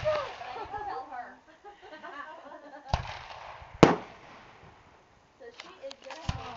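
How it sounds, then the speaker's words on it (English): May Day fireworks and firecrackers burst outdoors in a few sharp, loud cracks spaced seconds apart, with crowd chatter and voices murmuring between the blasts. "I got to see fireworks."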